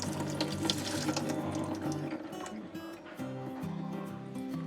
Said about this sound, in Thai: เทน้ำออกนะคะ